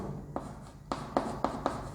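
Handwriting on a surface during a biology lesson: a short run of brief, scratchy strokes, five or six quick marks in an uneven rhythm, close and fairly quiet, with no talking.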